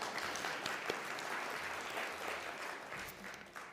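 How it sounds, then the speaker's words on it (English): An audience at an African organic agriculture conference gives a continuous round of applause, a soft, even wash of many hands clapping at a moderate distance with no speech. "We need to clap."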